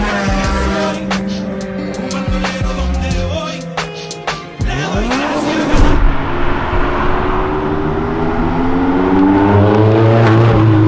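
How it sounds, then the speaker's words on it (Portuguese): A car passes along Avenida Europa, its engine note rising and falling as it approaches and drives past, followed by more traffic revving by; loud, close roadside sound with no talk. "a gente fica aqui gravando todo tipo de carro que passa"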